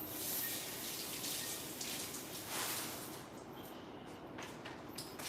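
Water runs from a kitchen tap as something is rinsed out while cooking, a soft, steady splashing stream that tapers slightly toward the end, fairly faint and with no talk.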